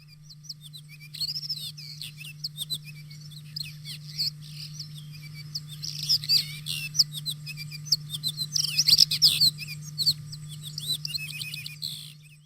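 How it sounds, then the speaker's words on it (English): A rock thrush sings a rapid stream of high chirps and trills, growing livelier midway, over a constant low electrical hum. "with the sound of a rock thrush for company"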